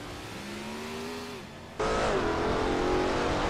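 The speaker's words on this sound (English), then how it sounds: "The slower cars are struggling to keep pace on the straights." Race cars on a track, including a Chaparral and an Alfa Romeo from the 1960s, with engines droning and shifting pitch as one passes, then a louder, closer engine roar bursts in and holds.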